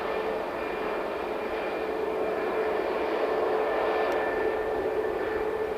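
An aircraft at Manchester Airport produces a steady, distant engine roar and rush with a faint high whine, holding at an even, moderate level throughout without any talk.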